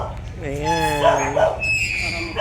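A small dog gives close, high-pitched yips and whining cries, a few rising and falling calls over a steady low background hum.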